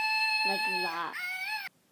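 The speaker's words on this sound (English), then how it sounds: "this monkey makes a really odd sound like this" A squeaky, warbling electronic toy noise with shifting pitched tones, heard close up over a brief spoken remark, then cutting off abruptly.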